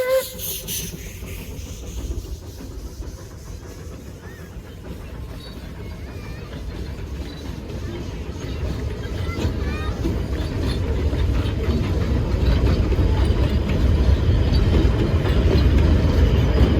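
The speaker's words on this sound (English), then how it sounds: "We first see the train at the Monbolt Creek Trestle Bridge" Puffing Billy's 1905-built 7A steam locomotive crosses the Monbolt Creek Trestle Bridge, a steady hissing, rumbling roar that grows louder as the train approaches, with faint talk early on.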